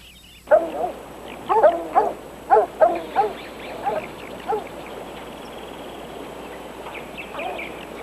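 Dogs barking outdoors during a search, a burst of several loud yips and barks in quick succession that thins to a couple of farther calls, then fades into background noise.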